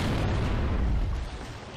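A frag grenade goes off in the shooter game Gears of War: Judgment, one heavy rumbling blast that decays over the next second.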